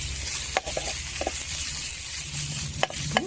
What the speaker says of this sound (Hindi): मैं इसमें घी के अंदर भून लूँगी